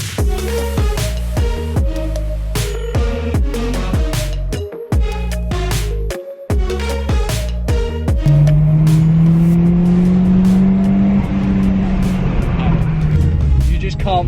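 A 230 bhp series one Ford Escort RS Turbo revs hard, its engine note rising and falling over steady loud music, then settling into a sustained, raw drone in the final seconds.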